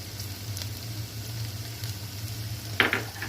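Cumin seeds frying in hot oil with garlic and onion for a chana curry, a steady close sizzle with a brief burst of stirring or spattering near the end, no talk.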